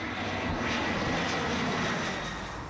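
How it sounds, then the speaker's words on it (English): Steady, loud roar of a low-flying airplane, a broad continuous rumble and hiss that stays even throughout with no voices. "That's equivalent to the noise of a low-flying airplane,"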